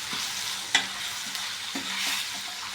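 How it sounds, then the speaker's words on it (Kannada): Chopped tomatoes frying in a pan for egg biryani, stirred with a utensil: a bright hiss of sizzling with a few quick scraping strokes over a short stretch, close up and without talk. "ಟೊಮೊಟೊ ಹಣ್ಣು ಹಾಕೋತಾ ಇದ್ದೀನಿ. ಕೆಂಪು ಫ್ರೈ ಆಗೋಕ್ಕಿನ್ನ"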